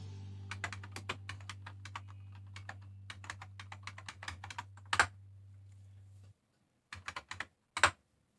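Rapid keystrokes on a computer keyboard as a command is entered at a command line, a steady run of close clicks followed by a brief pause and a few final separate taps, with a low hum underneath for most of it.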